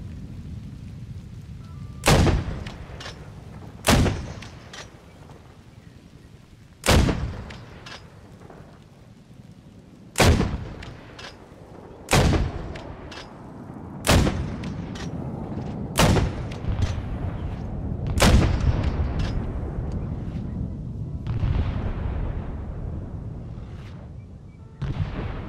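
Mortar fire and explosions in the Vietnam-era game ARMA 3 S.O.G. Prairie Fire ring out as a series of about eight sharp, loud blasts every two to three seconds, each followed by a rumbling tail over steady low ambient noise.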